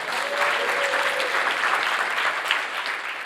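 A conference audience at a software talk on React Query API design breaks into steady, dense applause that holds at an even, fairly loud level throughout.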